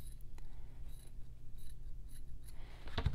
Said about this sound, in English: I'm just going to trim the dart a little and then trim the seam allowance too